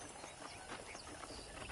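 Horse hooves clip-clop steadily in Red Dead Redemption at a ranch, a quiet, busy rhythm of steps blended into a dense ambient game soundscape with no talk.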